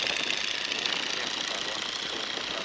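A 1942 Boeing Stearman biplane's engine drones steadily in flight at about 1,600 feet, a loud, continuous broadband roar filling the cabin with no pauses and no talk over it.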